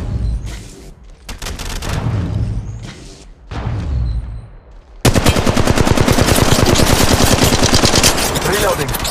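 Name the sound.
gunfire in video game Apex Legends Mobile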